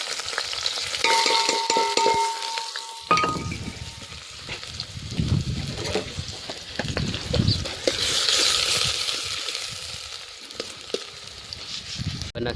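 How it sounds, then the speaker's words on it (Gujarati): Onion frying in oil in a pan over a wood-fired clay stove outdoors on a farm, a steady close crackling sizzle with repeated scraping stir strokes throughout. "તેલ આવી જાય ને એટલે ડુંગળી નાખવાની છે પહેલાં તો"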